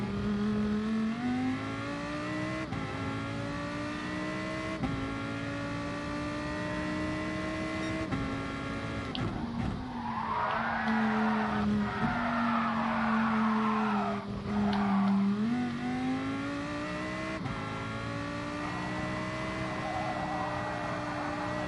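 A race car in Gran Turismo Sport brakes hard, engine pitch sliding down through gear changes while tires squeal and skid for several seconds in the middle, before the engine climbs steadily again.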